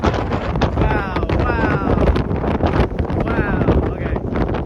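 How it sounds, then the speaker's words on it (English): A strong wind gust of roughly 45 to 50 mph during a severe thunderstorm roars steadily across the microphone, loud and close, with voices faintly under the rushing wind. "Yep, that was 45 or 50 right there. First big gust of the day."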